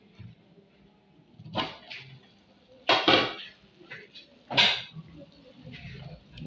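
A pot lid and pot clink and knock in a few separate bursts as someone checks coconut jollof rice cooking, with quiet gaps between the handling sounds.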